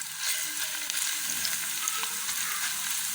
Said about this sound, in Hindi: घी गरम हो चुका है। इसके अंदर अब मैं डालूँगी लहसुन।